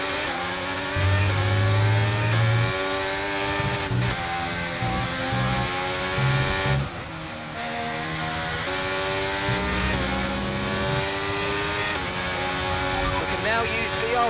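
Race car engines in F1 23 whine loudly and rise in pitch under acceleration, shifting up through gears with brief drops. A commentator talks over the engine noise throughout.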